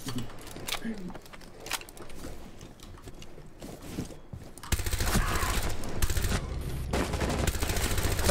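Rainbow Six Siege gunfire: after a stretch of quieter game sound and chatter, loud continuous rapid firing breaks out and carries on to the end, with players talking over it.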